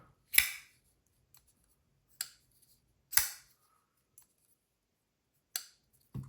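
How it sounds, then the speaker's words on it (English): An ATKnives HALT folding knife snaps shut on its detent, giving crisp, sharp clicks spaced about a second apart, each ringing briefly, close up and alone against near silence. "detent, snappy, nice click on the close"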